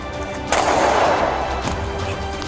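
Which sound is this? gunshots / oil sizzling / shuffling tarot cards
gunshots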